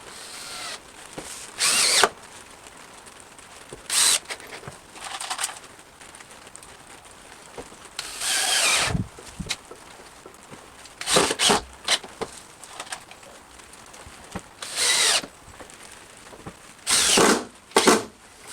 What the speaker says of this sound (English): Just going to attach them with some 4mm 20mm screws in a couple of places each side.